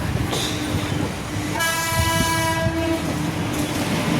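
A passenger train departing from Nampally station in Hyderabad rumbles steadily, then sounds a loud, sustained horn blast lasting over a second amid the ongoing clatter of the wagons.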